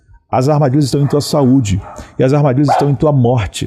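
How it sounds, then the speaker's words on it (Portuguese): Dogs bark in the background outdoors while someone speaks steadily in Portuguese, his voice dominating over the animals. "Você ouviu os cachorros latindo"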